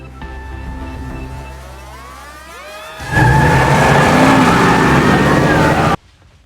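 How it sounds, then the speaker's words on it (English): A car engine idles, then bursts into loud, roaring revs for a few seconds before cutting off abruptly, with voices and music faintly underneath at first. "Engines warm and ready."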